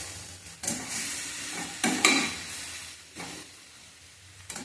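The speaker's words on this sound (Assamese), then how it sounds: "এতিয়া এই গোটেইখিনি মছলা মই ভালদৰে মিক্স কৰি ল'ম।" Kashmiri chilli powder and spices stirred together for a sweet star fruit pickle, with a few scraping spoon strokes over a hissing sizzle, close and moderately loud.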